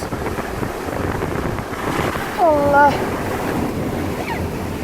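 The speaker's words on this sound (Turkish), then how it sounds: "Evet arkadaşlar şu an denize doğru giriyoruz." Waves and surf wash around a car as it drives into the sea, with a steady roar of water and wind buffeting the microphone and a brief voice exclaiming partway through.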